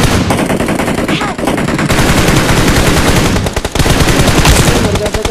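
Rapid bursts of automatic gunfire blast loudly and close in PUBG Mobile, dense overlapping shots with brief pauses, played on the Nusa map.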